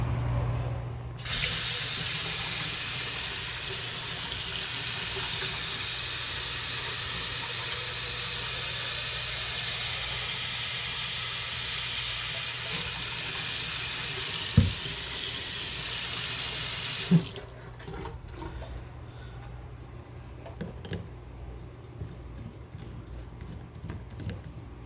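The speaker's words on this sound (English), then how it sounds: "Just gonna fill up my water bottle for the walk because it's a hot day." Water running steadily from an outdoor tap into a water bottle on a hot day, a close, continuous rushing hiss lasting about sixteen seconds before it shuts off, followed by faint outdoor ambience and a couple of small knocks.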